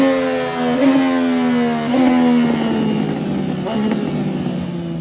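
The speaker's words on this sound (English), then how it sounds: "we're testing race tools on the turbo bike" A turbocharged Yamaha MT-09 motorcycle revving against launch control and a pit lane limiter, its engine holding a steady buzzing drone with repeated rev blips, close and loud.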